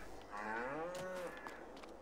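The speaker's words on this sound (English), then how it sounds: "This is the cows." A cow in a farming video game map lets out a single clear, drawn-out moo, fairly faint and alone.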